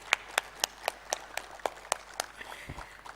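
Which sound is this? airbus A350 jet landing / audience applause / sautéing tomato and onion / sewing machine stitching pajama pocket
audience applause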